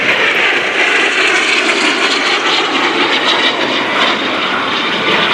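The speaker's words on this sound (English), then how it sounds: "You see the aircraft in front of you going left to right." An aircraft of the Warrior Flight Team passes in front of the crowd from left to right at the 2018 NAS Oceana Airshow, a loud steady engine roar that stays strong throughout with no voices.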